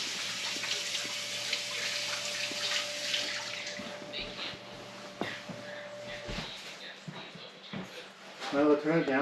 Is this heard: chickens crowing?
no